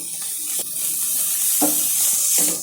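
Onions frying in a pan for samosa filling with a steady, loud sizzle and a few scraping stirs from a spatula at intervals.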